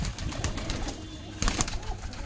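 Punjabi Malwai pigeons coo softly nearby, low throaty calls mixed with faint rustling and flutters.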